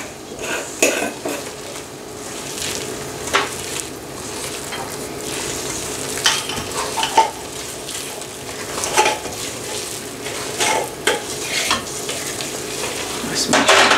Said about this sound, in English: I'm gonna go ahead and just stir slowly